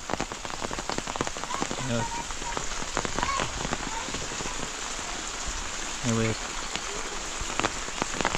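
Heavy rain pours steadily in a village, a dense patter of drops close by, with brief voices and tonal sounds breaking through now and then.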